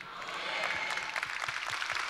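A church congregation at a Thanksgiving revival service applauds, a continuous, moderately distant wash of many hands clapping together throughout the short stretch, with no clear voices over it.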